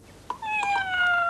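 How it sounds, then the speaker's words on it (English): A cat meows during a bath, a sharp short cry followed by a longer drawn-out wail with a falling pitch, close and loud, alone. "When Billy washed the cat,"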